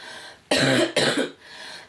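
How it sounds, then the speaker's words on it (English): Two close, harsh coughs in quick succession, loud and near, with a quiet background before and after. "So if I cough, please, I do apologize."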